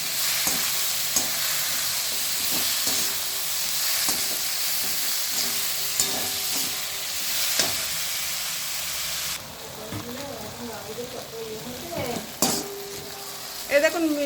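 Vegetables fry with turmeric in a pan, a loud continuous sizzle with scraping stirs and clinks of a utensil, softening toward the end with faint pan knocks.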